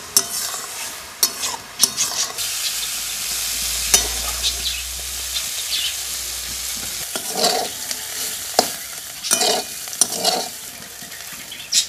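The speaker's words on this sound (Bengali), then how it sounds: "উচ্ছটা আমার ভাজা ভাজা হয়ে গেছে।" Bitter gourd fries in a pan with a steady close sizzle, while a spatula stirs it and clinks and scrapes against the metal several times, with no talking.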